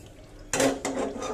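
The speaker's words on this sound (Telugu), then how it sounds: "కళాయి కడిగేసుకొని" A short burst of running water as a wok is washed, two quick splashy scrubbing sounds on the metal close by.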